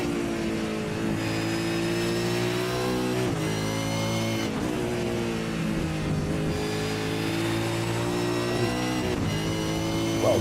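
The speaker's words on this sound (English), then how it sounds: "Let's listen to the engine cross here." A V8 Supercar engine in a sim racing game at Circuit de Barcelona-Catalunya roars continuously, revving up through gears with repeated shift dips and climbs, loud and close throughout.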